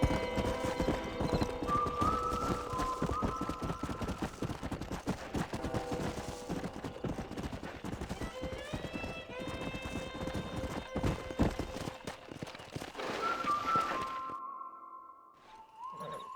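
Horses trot with a steady clip-clop of hooves and give occasional neighs and whinnies in the video game Red Dead Redemption 2, set against a busy game soundscape that drops out near the end.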